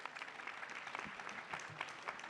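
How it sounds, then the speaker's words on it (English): Steady applause from an audience fills the clip, a dense wash of many hands clapping at even strength with no pauses. "And so a round of applause for Wiza."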